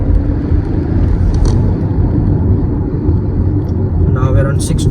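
A 2023 Škoda Slavia 1.0 TSI takes a turn at about 60, with a steady, loud engine and road rumble filling the cabin and a voice talking over it.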